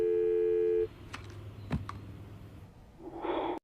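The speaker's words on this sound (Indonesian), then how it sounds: "Kemudian telepon terputus." A steady telephone busy tone sounds loud and alone for under a second after a call is disconnected, then cuts off, leaving quiet room noise with a few soft breaths and a rustle at the end.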